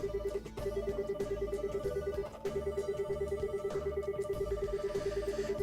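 A malfunctioning Windows computer gives off a steady electronic ringing like an annoying phone bell, pulsing in a rapid repeating pattern with two brief breaks, loud and continuous throughout.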